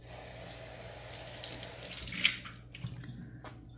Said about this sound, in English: Let's see if we can rinse this again.